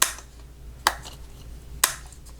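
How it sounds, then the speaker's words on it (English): Flip-up feet on a Leopold FC660C Topre keyboard snap out and back in, giving two sharp, close plastic clicks about a second apart, with quiet room hiss between them. "When you flip out and in like this, you don't actually need that much force."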